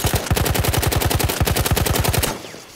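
A Hellriegel 1915 submachine gun in Battlefield 1 fires one long, fast, evenly spaced burst of loud close shots, then cuts off near the end.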